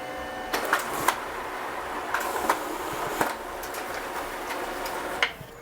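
Pantum BM5100ADN laser printer printing a page, a soft mechanical whir with a series of light clicks and ticks as paper feeds through, ending with a final clack.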